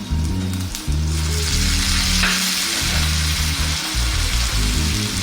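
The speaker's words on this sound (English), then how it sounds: "We're going to drop in that fresh tomato." Fresh tomato goes into a pan of softened onions for a Sri Lankan black chicken curry, and a loud, steady sizzle of frying fills the whole stretch with scraping stir sounds layered over it.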